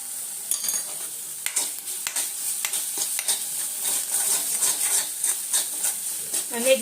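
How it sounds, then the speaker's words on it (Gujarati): A green chili frying in a small amount of oil, heard as a continuous hiss with scattered crackles and the scraping of a stirring spoon close by. "અને એકદમ મક્કમ ઓઇલમાં એકદમ ઓછા તેલમાં શેકું છું"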